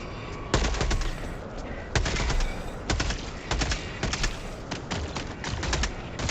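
Automatic weapon fire in Helldivers II empties a magazine in long, rapid bursts with short pauses between them, loud, close and dense, with no voices over the shooting.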